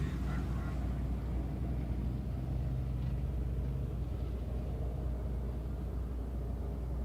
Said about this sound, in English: Final 2 cars crossing the back straightaway.